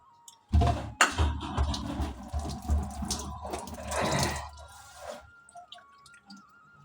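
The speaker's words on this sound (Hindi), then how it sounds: "इन्हें अच्छी तरह पानी में धो दूँ पहले" Red grapes being washed in water in a home kitchen: running tap water and splashing with drips, steady for several seconds, then stopping into near quiet.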